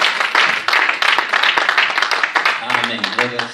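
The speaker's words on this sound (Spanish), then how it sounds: "Denle un aplauso a los niños en esta hora." A church congregation applauds the children, a mid-level crackle of clapping that runs under a speaking voice and gives way to sung or spoken tones near the end.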